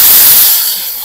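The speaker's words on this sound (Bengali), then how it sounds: "মশলা মাখা মাংসটা আমি একটু দিয়ে দেবো" Spiced marinated chicken dropped into a hot pan of fried onions gives one loud burst of hissing sizzle that quickly settles lower, with no talking.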